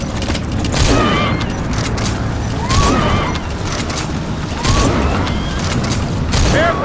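Gunfire in Metal Gear Solid V erupts in heavy booming bursts around the 1, 3 and 5 second marks, with chaotic battle noise and faint voices continuing between the volleys.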